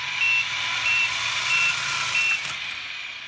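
Reversing beeps from the sound unit of a Tamiya 1/14 electric RC Mercedes-Benz Actros 3363 6x4 truck: four evenly spaced, fairly quiet electronic beeps over a low motor hum.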